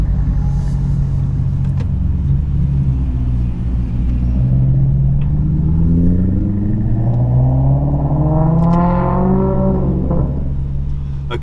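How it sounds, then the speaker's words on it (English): A Maserati Quattroporte engine rumbles steadily at low pitch while idling, with a rising whine partway through as it revs slightly, close and continuous. "I normally like to let the car idle for a few more seconds"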